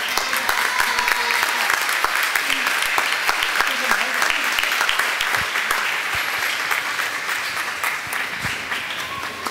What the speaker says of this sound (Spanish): Un fuerte aplauso a Monseñor Gregorio Rosa Chávez, nuestro cardenal